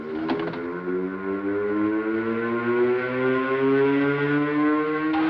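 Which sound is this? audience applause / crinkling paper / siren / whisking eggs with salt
siren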